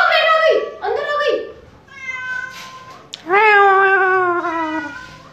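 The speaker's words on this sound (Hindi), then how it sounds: "गेट पे बिल्ली भी बैठी हुई है" A cat meows at a gate outside a home, several loud, close, drawn-out meows in a row with short pauses between them, alone with no talking.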